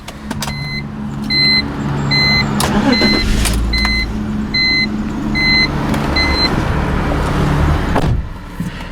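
A 2003 BMW 325i E46 starts with the key, and its engine settles into a steady rumbling idle while a repeated electronic chime beeps at an even pace above it.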